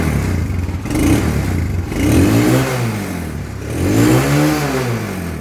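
A Kawasaki Barako 2 motorcycle engine with new clutch lining revs up and down several times close by, its mid-pitched roar swelling and falling in repeated throttle blips over a steady idle.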